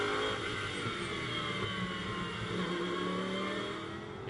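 Lamborghini Super Trofeo race cars pulling away at the Nürburgring, a steady, dense engine roar at moderate distance with layered revving tones holding throughout.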